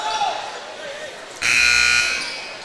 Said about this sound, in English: Doyle, ignore that buzzer, please